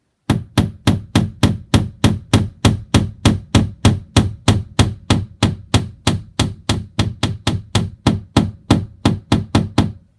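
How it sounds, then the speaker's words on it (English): Rapid, evenly spaced hammer taps on a wall anchor, roughly three per second, sharp and close, continuing for about ten seconds with no voices. "use a hammer and very gently tap on the anchor until it goes all the way in"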